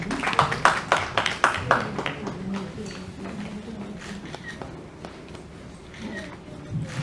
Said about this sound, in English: Put a big applause for him.